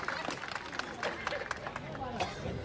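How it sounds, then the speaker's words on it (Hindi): Audience applause for poet Dharmraj Upadhyay at a comic poets' gathering in Banaras, steady clapping from a crowd with murmuring voices running through it for the whole stretch. "जोरदार ताली बजाइए धर्मराज उपाध्याय जी"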